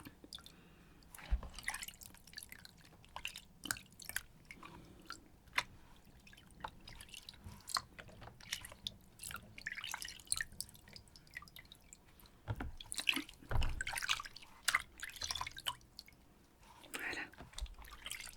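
Water drips and splashes onto hands during a close, quiet bath-set session, with small wet squishes and soft trickles under intermittent whispered French talk.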